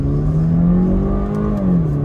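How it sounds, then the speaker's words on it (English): A 2013 Range Rover Evoque in sport mode accelerates at full throttle downhill, the engine droning loud and close as its pitch climbs slowly and steadily. "We'll floor it, take off."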